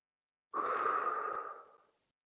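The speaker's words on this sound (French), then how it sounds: "On prend une respiration." A single deep breath taken during a group meditation session, a soft sustained airy exhale lasting about a second and a half, fading out gently, close and alone with no talk.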